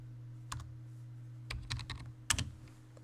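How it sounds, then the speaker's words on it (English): Short bursts of keystrokes on a computer keyboard, a few scattered clusters of quiet clicks separated by pauses, close and alone over a low steady hum. "So we will type a digital inequality"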